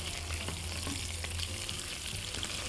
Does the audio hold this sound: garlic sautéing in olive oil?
yes